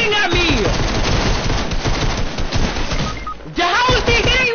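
Gunfire from two enemies in Fortnite, steady loud bursts of shots rattling throughout, briefly dropping off before resuming, with an excited player voice talking over the shooting.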